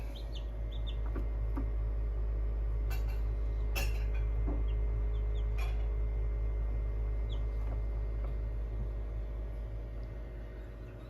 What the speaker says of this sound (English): These are the black copper morans, 3 of them that have hatched so far.